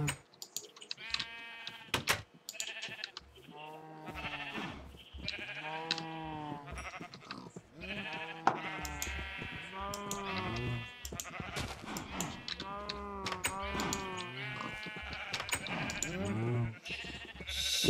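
Sheep in the video game Minecraft give repeated bleats one after another throughout, mixed with keyboard typing, clear and close with no voices.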